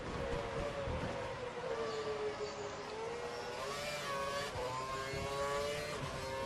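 Formula 1 car engine screaming at full revs in the F1 2012 racing game at the Indian Grand Prix, a loud continuous high-pitched whine that rises and shifts pitch through gear changes, with no talk.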